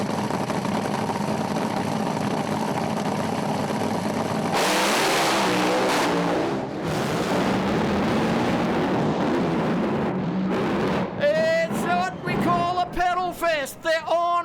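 Top Fuel dragsters at Willowbank Raceway rev on and off the throttle, a loud, rough roar that cuts out and surges back in repeated blips, with a commentator talking over it.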